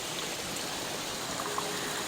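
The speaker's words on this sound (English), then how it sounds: "I love those waterfalls so much. Just listening to the water." Steady flowing water from waterfalls in a Japanese garden, a continuous even rush heard alone without talk.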